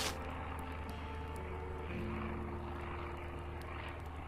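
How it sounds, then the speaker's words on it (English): A propeller airplane drones steadily in the video game Surroundead, a continuous engine hum that holds at an even level throughout with no break, sounding moderately distant. "Where's this plane?"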